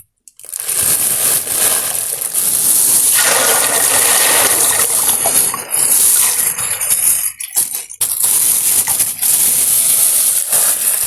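Water poured onto dried fava beans in a container for overnight soaking, steady rushing splash that dips briefly and resumes, close and loud, no talk.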